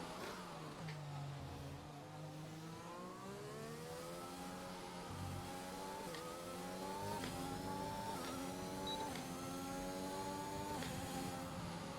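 A Williams F1 car in F1 2021 on a lap at Bahrain sings at high revs, its engine note climbing through gear shifts, loud and continuous with no talk.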